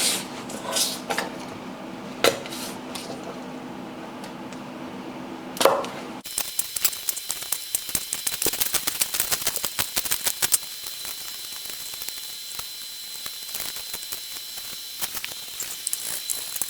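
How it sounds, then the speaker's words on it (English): A knife chops garlic on a cutting board: a quiet stretch of scattered taps gives way to rapid, close, crisp chopping that runs steadily for about ten seconds before thinning out. "Let's start by chopping the garlic."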